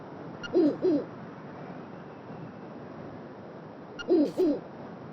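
Two pairs of soft owl hoots from Kaepora Gaebora-style owl in the Link's Awakening remake video game, one pair near the start and another near the end, over a quiet ambient background with no talk.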